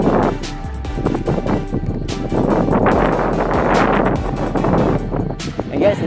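Strong gusting wind buffeting the microphone during a Saturday morning bike ride up a climb, a loud rumbling roar that surges and drops with sharp bursts throughout.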